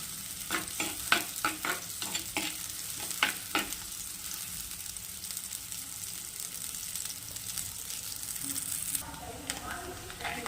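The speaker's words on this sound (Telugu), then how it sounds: "ఉల్లిపాయ ఫ్రై అయిందండి" Chopped onion frying in oil in a pan over a medium gas flame for prawn curry, a soft steady sizzle broken by a run of sharp spoon-scraping clicks early on, then a quieter hiss.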